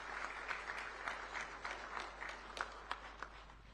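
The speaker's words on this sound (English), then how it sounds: "Shall we give him a round of applause, please?" An audience applauds a national president at a live-streamed event in Ghana, a steady, fairly faint patter of many hands with a few sharper claps standing out, heard without talk.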